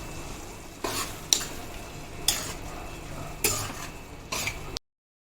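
Tomato curry with salt is stirred in a pan, with several distinct scraping strokes of a spoon against the pan over a low background sizzle; the sound cuts off abruptly near the end.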